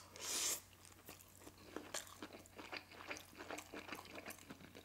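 Someone eats pad thai and sushi rolls close to the microphone, with soft, wet chewing and crunchy bites repeating in an uneven rhythm over a low steady hum, and no talking.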